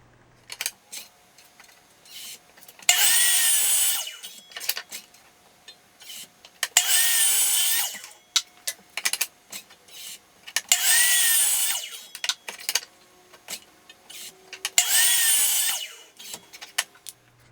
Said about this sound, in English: So I'll cut those tenons, and only after I finish that, then I'll lop off these pieces